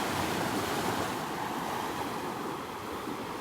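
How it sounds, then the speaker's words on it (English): Small waves from a passing boat's wake wash onto a beach on the Gulf at North Naples, Florida. The surf is a steady broadband hiss with some wind noise, continuous and fairly close, with no voices. "the wake creating these little waves"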